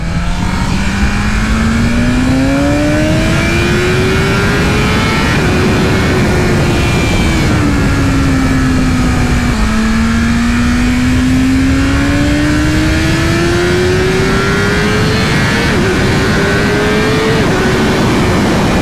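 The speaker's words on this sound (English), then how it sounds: "Going wide open throttle." A 2020 BMW S1000RR sportbike howls at wide open throttle, its loud engine note climbing steadily, dropping at each gear change and then rising again, all under constant heavy wind roar.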